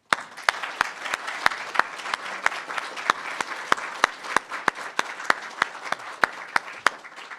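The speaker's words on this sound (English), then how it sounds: "Please join me in one final round of applause for their remarkable achievements." Audience applause at a sheriff's office years-of-service awards ceremony: sustained, dense clapping from a crowd, steady and fairly loud throughout, with a few sharper individual claps standing out.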